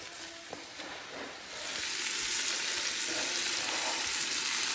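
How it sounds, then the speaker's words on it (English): Stew meat sears loudly in an Instant Pot, the sizzle swelling after the first second and a half into a steady, dense crackle with faint stirring scrapes. "All I'm doing right now is browning"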